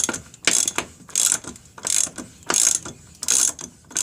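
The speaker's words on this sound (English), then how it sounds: "you need a 36 millimeter to take the big bolt off" A ratchet fitted with a 36 mm socket removes the large center wheel bolt on a Suzuki Hayabusa, sounding as five rapid, close clicking bursts evenly spaced about a second apart.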